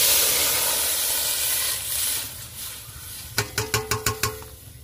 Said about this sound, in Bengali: এখন আমি ডালটা বসিয়ে দেবো সিদ্ধ করার জন্য।